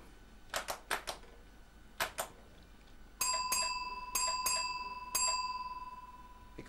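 An early battery-powered railway telegraph ringing a plain bell signal: a few separate bell strikes with pauses between, then a quicker series of bright, ringing dings that sustain and decay. It is close and clear, with no voices.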